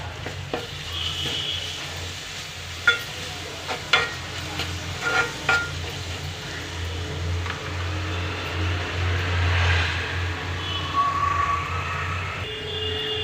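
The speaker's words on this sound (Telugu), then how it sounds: "అల్లం వెల్లుల్లి పేస్ట్ రెండు స్పూన్లు ఉందండి వేసేస్తున్నాను" Ginger garlic paste frying in oil for chicken curry, a low continuous sizzle with a few sharp spoon clinks and scrapes against the pan, close by and without speech.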